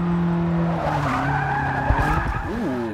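A Ferrari 488 GTB braking into the first corner in Forza Motorsport 6, engine note dropping through the gears as tires squeal briefly, loud and close.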